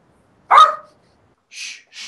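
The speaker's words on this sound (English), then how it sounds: "Mythic got muted while the dog was barking" A dog gives one sharp, close bark followed by two quieter, higher yelps, with silence between them and no speech.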